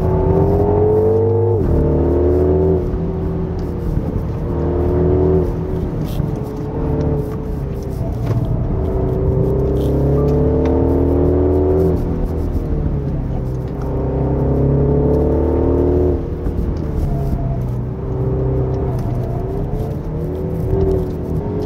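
A 2024 Mini JCW Countryman ALL4 engine pulls hard along a winding mountain road, its tone rising and falling through repeated accelerations and gear changes, steady and close throughout.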